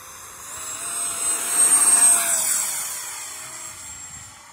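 A Freewing F16 V3 70mm electric ducted-fan RC jet in arctic camo spools up and takes off outdoors, a loud steady whine swelling to a peak midway and then easing as it pulls away, with no talking.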